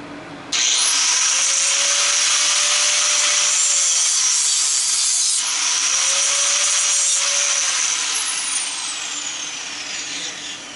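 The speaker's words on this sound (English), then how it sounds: "Usually what I do, I just put it in the vise. Get my angle grinder." An angle grinder cuts through a brass piece clamped in a vise, a loud, harsh, high-pitched grinding whine that starts abruptly and runs steadily for about ten seconds, the pitch wavering slightly as the disc bites.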